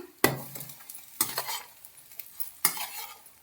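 Sliced bitter gourd fries in a pan, three sharp metallic stirring scrapes and clatters rising over a soft, fading sizzle, close up with no voices.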